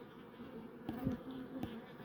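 Honey bees buzz around an open hive during a honey check, a steady insect drone with a few louder passes as single bees fly close to the mic.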